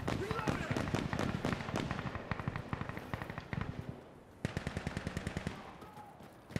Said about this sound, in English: gun run on the objective building